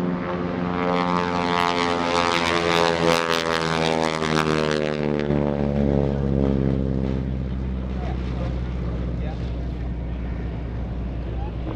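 A radial piston engine airplane at the 2017 NAS Oceana airshow drones loudly overhead with a deep, richly harmonic growl that swells and then gradually fades and lowers in pitch as it passes by.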